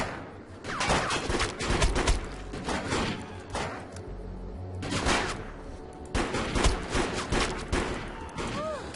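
Bursts of gunfire in a chaotic firefight in the video game Defiance, dense volleys of shots and rapid fire repeating across the span, loud and close, with pauses between clusters.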